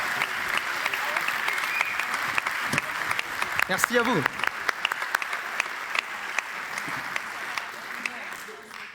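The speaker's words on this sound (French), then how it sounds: "Mesdames, messieurs, sous un tonnerre d'applaudissements" A theatre audience breaks into applause after a show, dense continuous clapping filling the room with sharper individual claps near the front, while a performer briefly speaks over it.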